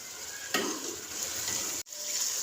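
Chicken karahi with salt, coriander and black pepper being mixed in a pot, a short bright sizzle with one sharp stirring scrape before a brief cut.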